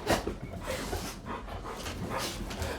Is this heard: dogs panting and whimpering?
yes